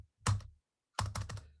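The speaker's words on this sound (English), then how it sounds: "Quite worrying that my enter key is not working." Keys clacking on a computer keyboard while coding: a single close, crisp burst, a pause, then a quicker run of three or four keystrokes, with no talk.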